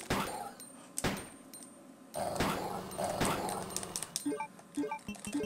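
Dog whimpering in the Resident Evil 2 video game, short whining yelps and growly bursts repeated in a few spurts over a busy game soundscape, with no talk.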